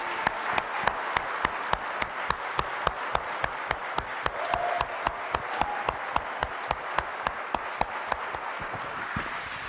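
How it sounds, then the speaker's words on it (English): Steady rhythmic clapping from an assembled crowd at a Rochester city staff meeting, honoring city students; regular beats hold evenly throughout, moderately loud, with no speech over them. "How about a big round of applause?"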